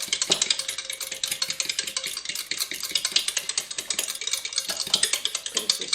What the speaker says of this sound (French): Je vais venir mélanger le tout.